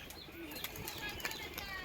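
A released tumbler pigeon beats its wings in quick, faint flutters close by, a brief run of soft flapping bursts against quiet outdoor background.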